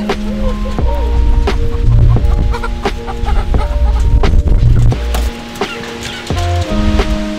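Chickens cluck and squawk close by, several short calls scattered throughout, over a steady rush of wind and rain with low rumbling gusts.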